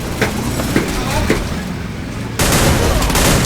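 M590 shotgun fire in the Free Fire battle-royale game sounds amid dense, loud game noise. Someone talks over it, and a heavier burst of sound breaks in partway through.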